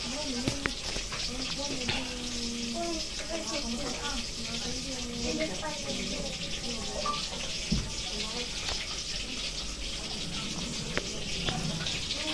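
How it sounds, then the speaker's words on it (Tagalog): Steady sizzling and hissing of pork frying in a pan, continuous throughout with faint background voices and occasional clinks. "si Kapoy nagpiprito na po nung malaki nating karne."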